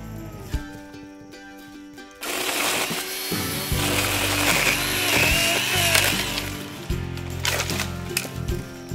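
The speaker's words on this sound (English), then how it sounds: "I really like the Hooyman electric pole saw for this kind of work" A Hooyman electric pole saw cuts brush in a ditch, a steady whining motor drone with shifting pitch as the blade bites, close and continuous after a brief quieter start.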